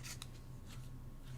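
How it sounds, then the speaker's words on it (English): Ribbon scissors snipping bordered ribbon, heard as a couple of quick crisp cuts near the start and fainter snips later over a quiet room hum. "ribbon scissors, my ribbon snips."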